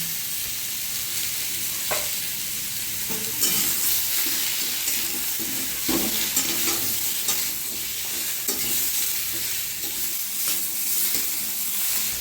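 Spices with turmeric, potato and papaya fry in a pan for a Bengali fish curry, a steady close sizzle broken by frequent scraping stirs, continuous and fairly loud throughout.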